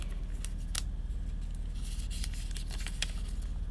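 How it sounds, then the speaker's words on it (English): Blue butterfly-themed paper journal with thick, chunky pages being flipped through, giving a close run of soft papery rustles and crisp flicks with several sharper snaps, no voices. "just flipping through that again just for the paper sounds."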